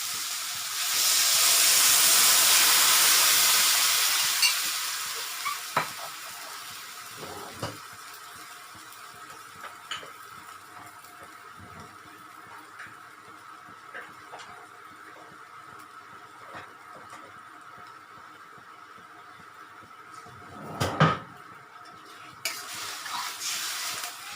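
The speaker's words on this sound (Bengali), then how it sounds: "এবার আমি এই যে সসটা বানিয়ে রেখেছিলাম পুরো, তার মিশ্রণটা দিয়ে দিলাম" Chili chicken sauce mixture poured into a hot pan, hissing and sizzling steadily with a loud burst at first, then stirred with occasional scrapes and clinks of a utensil against the pan.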